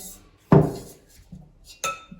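A heavy metal pot clanks sharply once, followed by lighter knocks and a second clatter as it is handled nearby.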